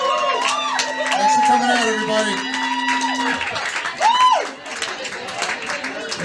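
A crowd at a live St. Patrick's Day music show claps and cheers loudly for the performers, the applause fading as someone speaks over it.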